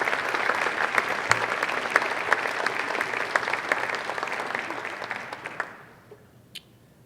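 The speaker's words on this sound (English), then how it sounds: "Let's give a round of applause to this lady over here" Sustained audience applause at a school district leadership meeting, dense and fairly loud, then thinning out and fading to a few scattered claps near the end.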